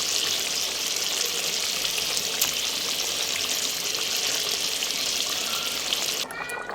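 Steady, dense sizzling as fried hilsa fish is added to hot oil and cooked spices, loud and continuous, with a brief shift in texture near the end.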